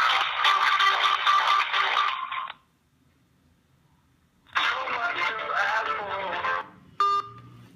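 Through the speakerphone of a Motorola Moto Maxx, an automated line on a call to Wind's 159 service plays in bright, narrowband bursts with a silent gap between, ending in a short electronic beep.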